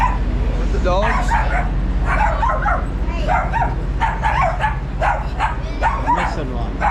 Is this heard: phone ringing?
no